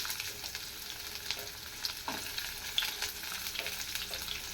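Chopped onions fry in a hot pan with a steady, fairly soft sizzle, broken by a few light stirring scrapes and taps throughout.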